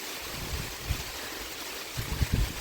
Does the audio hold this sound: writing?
no